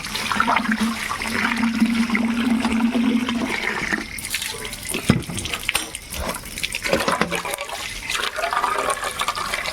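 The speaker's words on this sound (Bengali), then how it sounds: "কলের জল এসে গেছে" Tap water gushes steadily from a household faucet, a loud, continuous broadband rush with a humming tone for the first few seconds before the flow turns more uneven and splashy.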